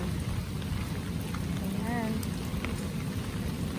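Steady rain hisses and patters on garden plants and surfaces, a constant wash of noise with a faint bird chirp in the background.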